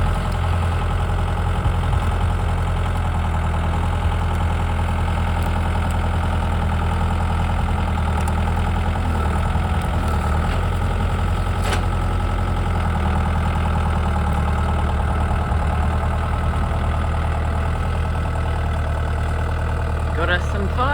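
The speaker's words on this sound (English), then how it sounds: "So bring in the big guns. Got the tractor." A steady, low tractor engine rumble idles continuously throughout, loud and close, with faint clanks and noises over it, during cleanup after high winds.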